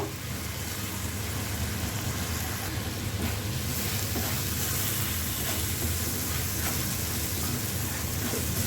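Lentils tipped into a hot pan for Bengali muri ghonto with fish head, giving a steady, dense sizzling hiss that holds evenly throughout at moderate level, with no talk.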